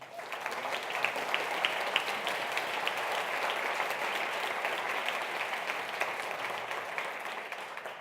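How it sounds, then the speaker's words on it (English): Steady audience applause fills a hall for mayoral candidates at a New Orleans flood-risk forum, a dense, even wash of many clapping hands that holds at moderate loudness throughout, with no voices over it. "Let's have a round of applause for our candidates"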